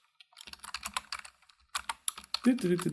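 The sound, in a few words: typing on a computer keyboard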